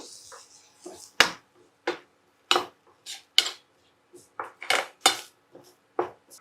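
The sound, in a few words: spoon mixing turmeric into a cooking pot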